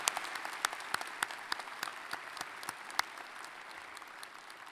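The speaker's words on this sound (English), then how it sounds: "Another round of applause for our commencement speaker." Audience applause for a commencement speaker at an undergraduate fall graduation ceremony, a steady wash of clapping from a large crowd lasting throughout, moderately distant and even in level.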